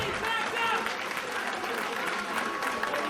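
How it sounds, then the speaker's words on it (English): Applause from a pro wrestling arena crowd while medics tend to the wrestlers, a steady wash of clapping with a faint voice running beneath it. "So as we await word, some applause"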